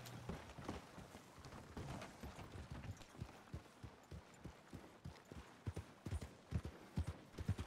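Horse hooves clip-clop steadily on the ground in the Red Dead Redemption 2 open-world game, a brisk run of sharp, regular knocks at moderate level with faint voices now and then.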